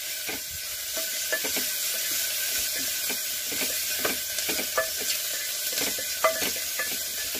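Coriander leaves fry in a hot oil tempering for horse gram palya, giving a steady close sizzle and hiss broken by stirring clicks and scrapes in the pan.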